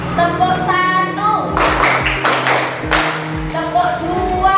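Group clapping routine in a classroom, several crisp synchronized bursts of claps in a short rhythmic sequence over steady background music, close and loud.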